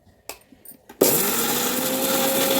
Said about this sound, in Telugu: ఇప్పుడైతే మసాలా మిక్సీ పట్టేసుకోవాలి.